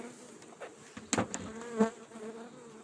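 Bees buzz steadily near hives set among a sunflower field, a faint continuous hum with a few closer insects passing by briefly.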